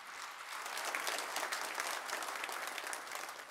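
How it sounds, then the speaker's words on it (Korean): A church congregation claps together to welcome a new member during a Sunday service. The applause is dense and sustained, heard from across the room and fairly soft, with no voices over it. "우리 박수로 환영하겠습니다."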